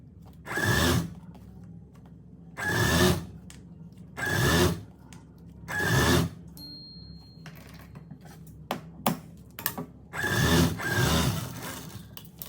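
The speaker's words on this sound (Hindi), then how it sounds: "बिल्कुल इस सिलाई के ऊपर हम ये लेस के किनारे पे सिलाई लगाएंगे।" A sewing machine stitching lace onto a trouser hem runs in five or six short whirring bursts, each lasting about a second, with quiet pauses and small handling clicks between them.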